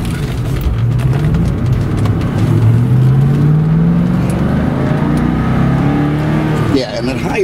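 A 1998 Ford Mustang Cobra V8 engine roars loudly as it revs and accelerates, pitch climbing and easing, with a deep throaty exhaust note and a sudden drop near the end.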